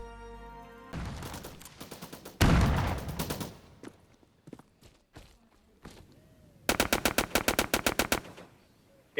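Gunfire in the shooter video game Peak 53 rattles out in rapid automatic bursts, with a long burst early, scattered single shots, and a final tight, evenly spaced volley, all close and loud.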